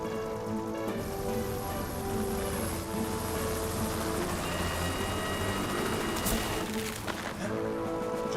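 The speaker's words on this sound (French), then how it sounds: "on va avoir besoin du renfort de l'hélicoptère" Cartoon helicopter from Fireman Sam flying with a loud, steady rotor thrum and engine whine, close and continuous, with a rising whoosh near the end and no talking.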